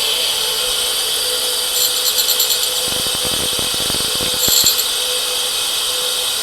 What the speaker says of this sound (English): we'll grind it a little bit further